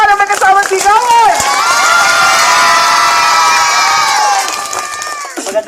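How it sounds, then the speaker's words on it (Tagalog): Schoolchildren at the Arigoy Mangyan School cheer and shout loudly as a crowd, a sustained, close roar of young voices with scattered clapping that fades toward the end. "Palakpakan na may kasama sigawan!"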